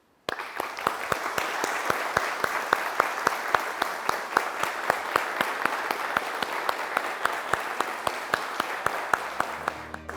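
Large audience applause honoring those who worked on Brazil's SCD-1 satellite, a dense steady clapping that holds for about ten seconds at an even level and tails off near the end.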